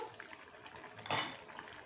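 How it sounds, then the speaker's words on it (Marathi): A metal lid clatters as it is lifted off a pot of simmering mango rayta, a brief bright clink over a soft bubbling background, close and fairly quiet. "झाकण उघडून आपण बघूया"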